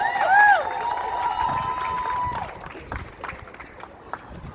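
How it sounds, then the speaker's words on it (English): A huge protest crowd fills the streets of Sudan, a broad roar of many voices with a sustained whistle or chant tone in the first half, fading into a quieter crowd murmur. "Today, June 30th, the largest ever crowds in the history of Sudan."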